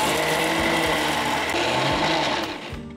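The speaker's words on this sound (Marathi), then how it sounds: "हे असंच सुकं आधी फिरवून घ्यायचं मिक्सरमध्ये" A kitchen mixer grinder dry-grinds sugar and chutney ingredients with no water, a loud, steady whirring grind that continues throughout and begins to wind down in the last half second.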